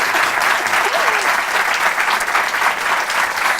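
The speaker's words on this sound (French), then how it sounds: "c'est un message qui s'applaudit." Studio audience at a French TV broadcast applauding in a dense, sustained burst of clapping, loud and even, with faint voices underneath.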